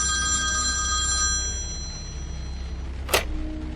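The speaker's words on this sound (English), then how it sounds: "The phone rang just 2 minutes before closing time." A telephone bell rings in one short, sharp burst late in the moment, standing out over a steady hum and tonal background with no one speaking.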